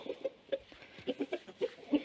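Chickens and young roosters in a village farmyard cluck and chirp in short, irregular bursts, fairly close and moderately loud, with no one talking.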